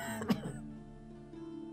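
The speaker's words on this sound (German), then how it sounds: "Gott, der hustet aber ab hier." A man in a game world coughs or clears his throat once, a short rough burst near the start that quickly fades into quiet background tones.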